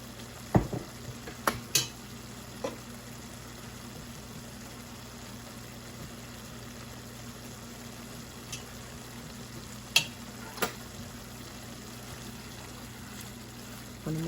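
A meat mixture with black pepper, oregano and a little olive oil frying in a pan, a quiet steady sizzle with a low hum and a few sharp utensil clicks scattered throughout.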